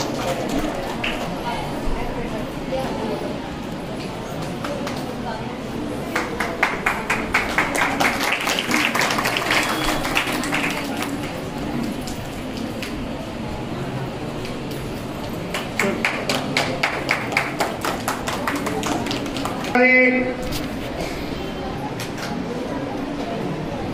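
Crowd applause for meritorious students at a school Independence Day celebration in Ghaziabad, two extended rounds of rhythmic clapping heard over a loudspeaker announcer's voice in an outdoor gathering.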